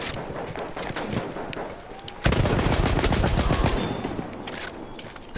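Gunfire in a PS4 shooter game: rapid bursts of shots crackling through the opening seconds, then a louder, denser stretch of sustained automatic fire from about the middle that fades toward the end.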